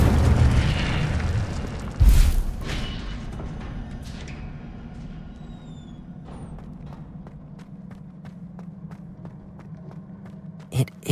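An Incendio fire spell in Hogwarts Legacy bursts with a sudden loud whoosh and boom, trailing into a softer crackling rumble, followed by scattered lighter clicks and a second sharp pop near the end, with some talk present.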